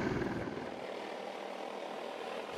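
Helicopter hovering over the Sheephole Mountains during water-drop delivery, a steady, moderately distant rotor and engine drone that stays even throughout.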